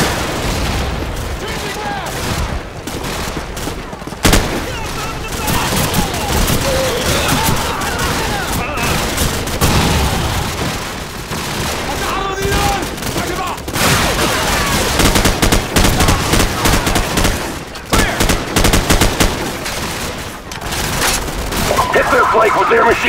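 Sustained gunfire from Call of Duty 4: Modern Warfare, with machine-gun bursts, single shots and booming explosions packed densely and loudly throughout, and voices shouting amid the battle.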